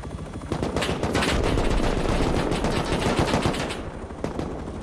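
An attack helicopter's minigun fires in a video game, a loud, dense, sustained burst of rapid automatic gunfire lasting several seconds with no talk over it.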